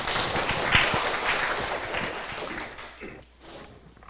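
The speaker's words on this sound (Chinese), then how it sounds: "请大家用热烈的掌声欢迎" An audience applauds in a classroom lecture hall as a Taiwanese parliamentary-style lecturer is welcomed, with dense, steady clapping that fades out over several seconds.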